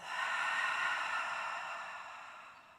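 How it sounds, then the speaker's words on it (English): A single slow breath is blown out through the mouth after a run, a soft airy rush that fades over a few seconds, close and quiet. "Exhale out of your mouth."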